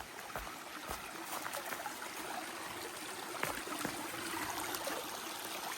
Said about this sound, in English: Full little stream.